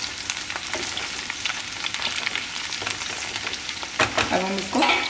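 Green chilies and mixed vegetables sauté on a tawa with a steady, close crackling sizzle and light stirring scrapes, growing busier toward the end.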